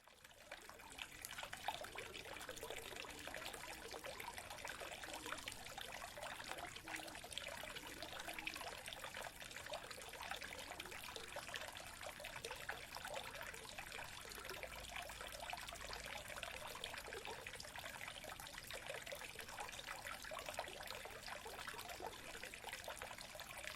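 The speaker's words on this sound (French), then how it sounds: "L'eau, elle passe dans ce sens-là et ça fait tourner la roue dans ce sens-là." Water flows steadily through the paddle wheel of the Tour de Féry mill on the Vesle river in Reims, a constant trickling and splashing rush that runs evenly for the whole stretch with no talk.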